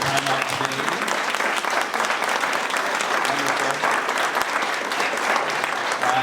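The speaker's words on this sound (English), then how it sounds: "let's give them a round of applause for taking the time out today" Audience applause for Indigenous artists after a panel discussion at a market, a sustained, even wash of many hands clapping, moderately loud, with faint voices mixed in.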